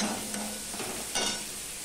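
Onions being stirred with salt in a frying pan, a steady sizzle with a couple of brief scraping strokes, fairly close and alone.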